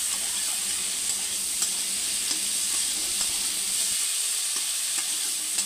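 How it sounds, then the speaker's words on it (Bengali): Potatoes sizzling in hot oil with spices in a pan as a steady, soft frying hiss, with occasional scrape-and-stir clicks throughout and no talk. "এখন দিয়ে মশলার সাথে আলুটাকে ভালো করে কষিয়ে নেব।"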